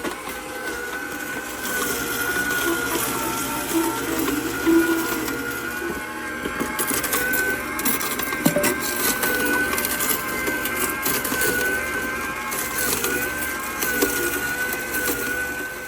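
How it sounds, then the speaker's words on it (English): A Canoly JE24 cold press juicer crushing chopped celery stalks, giving a steady, fairly loud mechanical grinding and whirring with crackly crunching throughout, and no voices. "although the juicer had no issues crushing them, it did make quite a bit of noise during the process"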